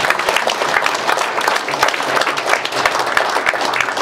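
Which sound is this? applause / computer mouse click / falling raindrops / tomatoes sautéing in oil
applause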